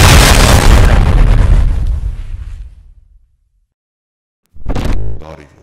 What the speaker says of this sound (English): Is that a bomb?